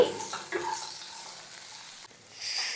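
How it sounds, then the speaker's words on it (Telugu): Soft sizzling and crackling of spices in hot oil, with a brief burst of louder frying near the end; no one speaks. "నేనైతే లైట్గా పోపు పెట్టుకుంటున్నాను"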